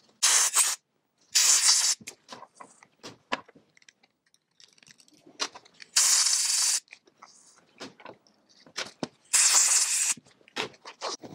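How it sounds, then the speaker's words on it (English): Brake cleaner hisses from an aerosol can in four loud, steady bursts onto a go-kart brake master cylinder from Tony Kart BSM brakes, with small clicks and handling noises between sprays. "So now we're going to clean the master cylinder with some brake cleaner"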